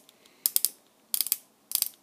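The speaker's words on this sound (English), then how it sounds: "sort of a machine gun style sound, very cool" An Exo-Squad Aerial Attack E-Frame toy's ratchet gimmick turned by hand, giving three quick bursts of sharp rattling clicks like a toy machine gun, close and fairly quiet with no talking.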